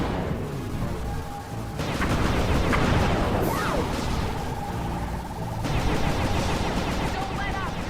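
Dense video game gunfire crackles in continuous rapid bursts with booming impacts, loud and close, under excited voices talking.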